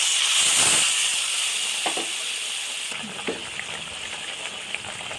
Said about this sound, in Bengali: এবার একটু উষ্ণ গরম জল দিয়ে দিলাম।